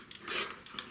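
Scissors cutting through cotton quilt fabric to trim off the selvage edge, a few quick close snips with a soft rasping slide of the blades, heard alone without talk.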